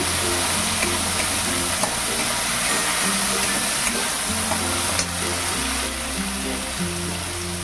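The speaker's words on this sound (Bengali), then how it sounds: "আদা আর কাঁচা লঙ্কাটা একটু নাড়াচাড়া করে নেবো কয়েক সেকেন্ড" Ginger and green chili stirred and fried in a pan for a vegetarian potato and pointed gourd curry, a steady close sizzle running under background music with no talking.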